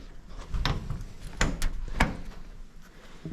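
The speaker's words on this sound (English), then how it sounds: "Look at the door shuts." The door of an old ex-fire-service van with 55,000 miles being shut several times, giving sharp thuds and clunks at close range with a short gap between each, and no talk over them.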